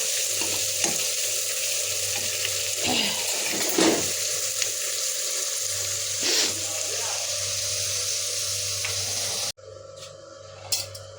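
Cumin, onion and garlic fry in a pan with a loud, steady sizzle and occasional stirring scrapes, running close and continuous until the sound cuts abruptly near the end.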